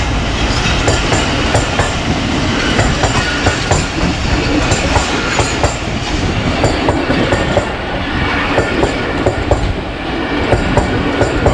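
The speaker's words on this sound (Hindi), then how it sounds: "शाम के 3:55 पे अप्रोच कर रही है 11 अप हज़ारा एक्सप्रेस" The 11 Up Hazara Express, hauled by locomotive 9018 G40, rolls into Pano Aqil Cantt station in Pakistan. The loud, continuous rumble carries a steady clickety-clack of wheels over rail joints.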